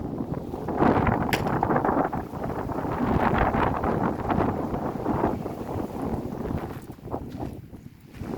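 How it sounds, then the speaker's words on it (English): Hot wind blowing outdoors in Phoenix, rushing and buffeting the microphone in a steady roar that swells and eases over several seconds, loud and close. "oh, here comes the wind. That'll cool us down."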